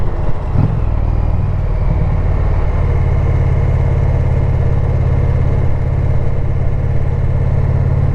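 A motorcycle engine idles steadily on a cold morning, a loud, low, even rumble close by with a slight bump near the start and no stumbles.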